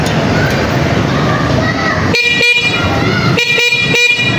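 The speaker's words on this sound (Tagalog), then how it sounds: "Ito yung busina nya." A steady noisy hum gives way to a loud car horn honking in several short repeated bursts near the end.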